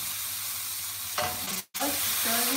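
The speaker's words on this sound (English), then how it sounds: "just stirring these potatoes." Potatoes being stirred in a hot pan with cumin seeds while cooking, a steady close sizzle with scraping spoon strokes near the end.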